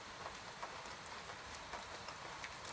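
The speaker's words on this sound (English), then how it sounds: "The rain on the roof is the loudest and the closest." Rain patters on the roof of a cozy cabin, a soft, even hiss of dense drops with faint scattered taps, quiet and continuous throughout.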